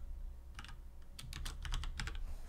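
Fast, hard typing on a computer keyboard, with clusters of sharp key clacks and a brief pause before a denser burst of strikes, close and fairly quiet, with no talking.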